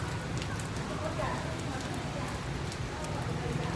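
Heavy rain pours onto a Hanoi street in a steady, even hiss of dense drops that holds at moderate volume without a break.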